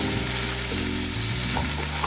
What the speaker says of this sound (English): I just want it to kind of simmer, get some of the juices out of the vegetables in here